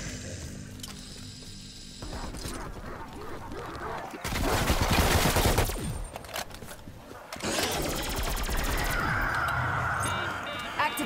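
Weapon gunfire in Call of Duty: Black Ops Cold War Zombies on the Mauer der Toten map comes in dense, loud rapid bursts with short pauses, layered over a busy game soundscape of mechanical clatter and effects.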